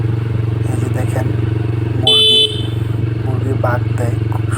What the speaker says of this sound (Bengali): এই যে বাইক চালাচ্ছি